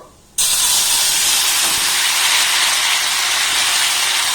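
Homemade masala is tipped into a hot pan with whole cumin. After a brief quiet moment, a sudden loud sizzle bursts out and continues as a steady, close, hissing fry with no talk.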